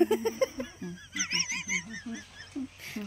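Domestic ducks call in a backyard with a run of short, close honking quacks, then a softer stretch of calls, and a voice speaks among them.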